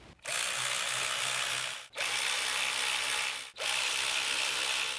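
A wrench ratchets steadily while tightening the valve cover bolts on a 2011-2016 Hyundai Elantra, three long clicking runs separated by brief pauses, close and clear with no talking.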